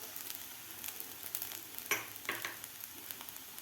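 Sago pearls (sabudana) fry in ghee with a quiet, continuous sizzle and crackle, broken by a couple of brief stirring scrapes, with no voices.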